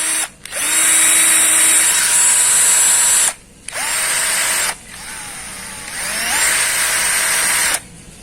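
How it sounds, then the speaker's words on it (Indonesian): Ryobi RCD 12V cordless drill running at speed 1, a close, loud steady motor whine in three long trigger bursts separated by short pauses, each ending as the motor winds down. "Suaranya lumayan halus ya untuk bor Rio brasit ini."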